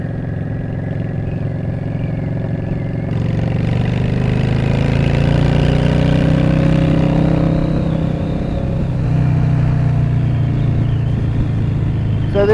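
A motorcycle engine drones steadily while riding through quiet streets, a continuous mid-pitched hum that rises slightly partway through, with no talking.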